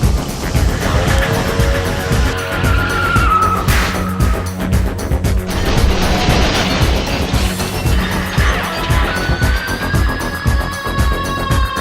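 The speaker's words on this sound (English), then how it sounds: "a car started following us. That's it right there. It eventually ran us off the road." A car skids as it runs another vehicle off the road at night, with loud tire squeals, revving engine noise and rumbling over about twelve seconds, then a high whine near the end.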